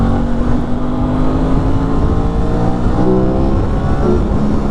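An Aprilia RS660 sport motorcycle rides along on a winter day, its engine droning loud and steady with rising and falling revs close by.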